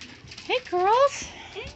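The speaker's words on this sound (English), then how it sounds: "Puppies!" Corgi puppies whimper and squeal in short, high, rising cries close by, a few distinct whines over faint background chatter.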